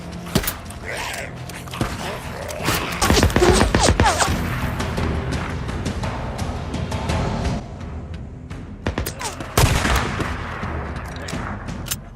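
Rifle gunfire in the video game Days Gone, scattered sharp shots and bursts at moderate loudness with heavier clusters, over a game soundscape, with speech also present.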